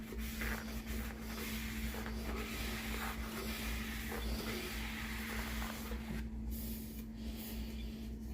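A coarse Scotch-Brite pad with acetone scrubs the inside of a tumbler, a continuous close rubbing hiss over a steady low hum.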